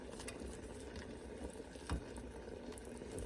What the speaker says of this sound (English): the water is simmering underneath of our chocolate